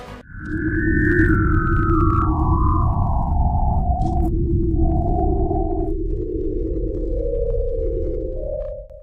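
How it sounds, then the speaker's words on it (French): A radio signal said to come from the planet Gliese 581d, heard as loud, continuous sliding tones that step downward and back up over a steady low droning rumble, sustained for the whole stretch with no voices. "un signal a été reçu en provenance d'une telle planète, Gliese 581d"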